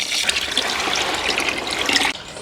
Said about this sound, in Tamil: அதனால் சாண்டை ஒரு வாட்டி கழுவிடலாம்